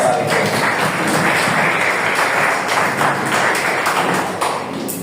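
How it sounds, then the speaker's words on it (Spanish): Church congregation clapping for the Lord, a dense, steady wash of many hands applauding close by for about five seconds with no break. "Dale palmas al Señor."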